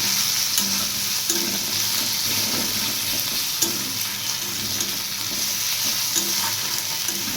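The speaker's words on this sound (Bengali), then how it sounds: "টমেটো কুচি কাঁচা লঙ্কা কুচি দিয়ে এটাকে ভালো করে আমি কষাতে থাকবো" Steady, loud sizzling of chopped tomato and green chili frying in a hot pan, with intermittent scraping and stirring sounds throughout; no voices.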